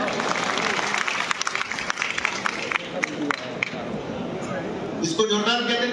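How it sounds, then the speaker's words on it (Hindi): An audience at a public development-works event applauds with a sustained clatter of clapping that runs under a crowd murmur and a loudspeaker voice. "जरा जोरदार ताली बजाएं।"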